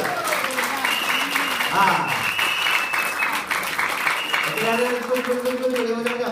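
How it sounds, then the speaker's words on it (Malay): Audience applause at a Malay-language Elken company meeting in Crown Hall, Singapore, greeting a health product; dense sustained clapping fills the room, with a voice and tonal sounds over it. "berikan tepukan yang luar biasa untuk produk kita"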